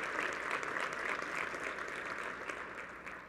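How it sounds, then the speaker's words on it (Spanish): Sustained applause from an audience at a policy forum, steady and dense across the whole stretch, slightly tapering at the end, with no talk over it. "Le dimos un aplauso para Ariel"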